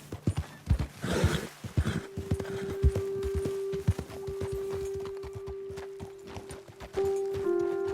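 Horses' hooves clip-clop at a steady walk and trot in Red Dead Redemption 2, close and clear, with a brief whinny and a sustained tonal game ambience running underneath.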